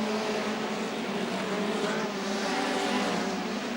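Hot rod race cars lapping a track at a 1980 world final, a steady loud engine roar and whine with a dense, continuous rasp throughout and no distinct passes.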